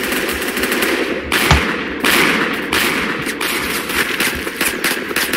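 Rapid automatic gunfire from the video game Phantom Forces rattles in dense bursts, loud and continuous with brief pauses between strings of shots.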